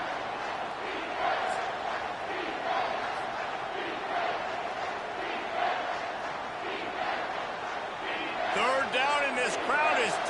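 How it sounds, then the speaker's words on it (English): A packed football stadium crowd roars steadily and loudly throughout, with a rising surge of cheering and whistles near the end. "This crowd is tearing the lid off this place."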